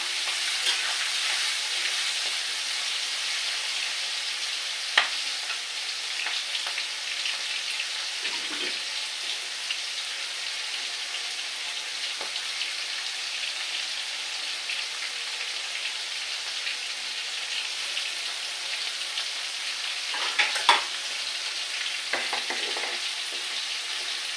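Teasel gourd (kakrol) frying with shrimp in hot oil, a steady hissing sizzle throughout with a few faint clinks and stirring scrapes, and no talk.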